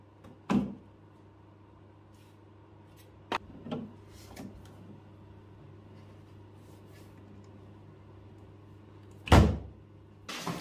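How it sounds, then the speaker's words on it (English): An old wooden drawer compartment is worked loose from a bar cart, giving a few scattered wooden clunks and knocks, with the loudest near the end. Quiet background hum fills the gaps between them. "I then moved on to removing an old drawer compartment that was beyond repair."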